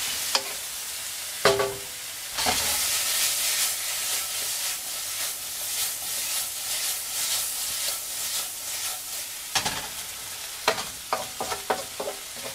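Chicken stir fry in a hot pan hisses and sizzles steadily after sauce is added, with the clatter of stirring and a few sharp utensil knocks near the end, close and loud.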